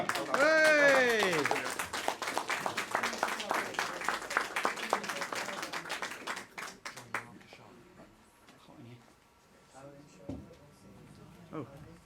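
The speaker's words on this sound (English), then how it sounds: "Please keep that applause going for Charlotte Harker" Applause for a performer at a Black History Month event at the Pump House in Watford, with scattered claps running beneath a whooping voice and loud talk, then fading to thinner clapping and murmurs.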